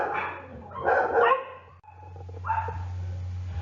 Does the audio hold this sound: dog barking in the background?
yes